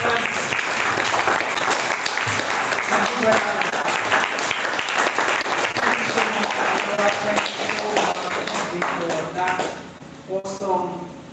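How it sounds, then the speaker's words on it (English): A conference crowd at a live Shapers Network Africa event gives its speakers a long, steady round of applause, dense and loud, fading near the end as a voice speaks over the room. "Please, a round of applause for our speakers."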